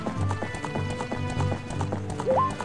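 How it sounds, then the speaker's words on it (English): A horse in The Legend of Zelda: Ocarina of Time clip-clops in a steady, regular hoof rhythm, then gives a brief neigh near the end, with in-game music underneath. "Also, the fucking horse won't move."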